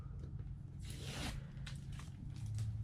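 Brief quiet tearing and crackling as cut vinyl car decal material is peeled away from its backing, one main rip followed by a few smaller soft peels, close and faint.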